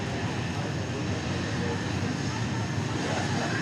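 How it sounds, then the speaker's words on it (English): Steady broadband jet roar from a British Airways Airbus A380 taking off on runway 17 right at Dallas Love Field, heard at a distance as a continuous wash of engine noise with no distinct peaks throughout. "British A380 taking off on 17 right."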